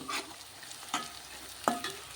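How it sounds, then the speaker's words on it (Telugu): Chopped onions for tomato upma stir-frying in a pan, with three short bursts of stirring and sizzle spaced about three-quarters of a second apart, close and fairly quiet, with no talking. "ఉల్లిపాయ ఎర్రగా ఫ్రై అయింది కదా,"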